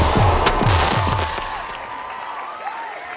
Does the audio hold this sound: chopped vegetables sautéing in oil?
no